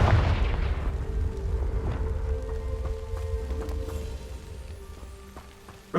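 A Confringo spell blast in Hogwarts Legacy lands as a loud booming explosion up front, then rumbles and fades with scattered debris clatter and a faint low drone over several seconds, no voices.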